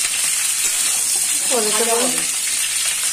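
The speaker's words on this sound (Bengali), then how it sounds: "অনেকক্ষণ ফ্রাই করবি একটু 5 মিনিট মানে লাল লাল করে ফ্রাই করবি" Continuous close sizzling of cauliflower frying in oil, with a person briefly speaking over the hiss.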